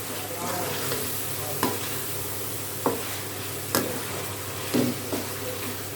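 Continuous sizzle of fried taro (arbi) frying in masala in a pan, punctuated by several sharp stirring clanks and scrapes spaced a second or so apart.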